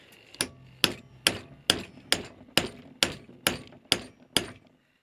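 A hammer strikes a flat-bar axe drift to knock the handle out of a vintage Elwell axe head, ten sharp metallic blows at a steady, unhurried rhythm, close and loud with no talking.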